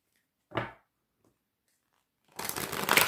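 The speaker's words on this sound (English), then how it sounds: "I like to shuffle again on camera, especially for those new to tarot." Tarot cards being shuffled by hand, one brief soft riffle near the start, then after a short silence a louder, sustained papery shuffling burst.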